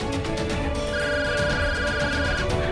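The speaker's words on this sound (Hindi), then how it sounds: "अरे बिमला का फोन आ रहा है" An incoming call on a phone in a Hindi drama scene, a continuous electronic ringtone with a sustained tone over dense background music, loud and steady with no talking.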